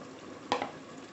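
Water is stirred into chicken handi gravy in a pot: two quick scraping strokes rise briefly over a faint, steady background of cooking noise.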